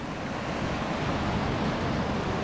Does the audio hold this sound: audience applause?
no